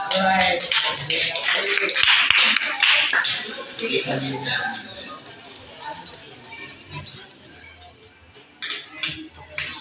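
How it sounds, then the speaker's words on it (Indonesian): Students clap for a classmate named Zaki during a teaching-practice lesson, a loud burst of hand claps in the first few seconds that thins out, with a few scattered claps near the end and talking over it. "tepuk tangan untuk Zaki"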